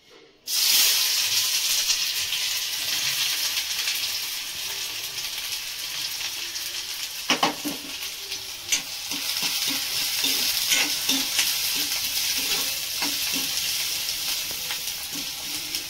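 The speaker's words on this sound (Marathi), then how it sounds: "तेल तापलंय, कांदा टाकते।" Onion dropped into hot oil in a pan with coriander powder, garam masala, turmeric and goda masala nearby, bursting into a loud sustained sizzle, with intermittent clicks and scrapes of stirring.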